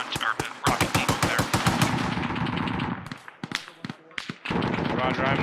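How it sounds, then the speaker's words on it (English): Rapid bursts of automatic gunfire in ArmA 3, loud and close, with sharp repeated shots broken by short pauses, under radio chatter from players. "There are a lot of shots."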